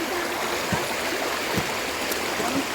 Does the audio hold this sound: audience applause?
no